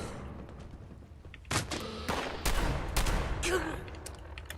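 Gunfire in the online game Fallout 76, with several sharp, broadband bursts crashing out over a low background rumble, the loudest cluster arriving in quick succession toward the middle.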